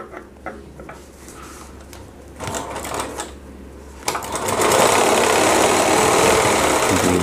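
A sewing machine stitches the top seam on a panelled lehenga, starting with scattered clicks and handling, then rising into a steady, loud, close whir that runs without pause to the end, no voices.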